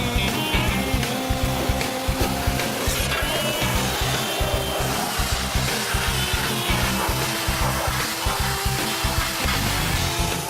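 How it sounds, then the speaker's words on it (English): A pressure washer sprays water to clean an olive oil press centrifuge, a loud steady hissing roar with a rhythmic pulsing throb running throughout, close and unbroken with no talk. "I didn't need Perry or Bob to show me how to operate the pressure washer"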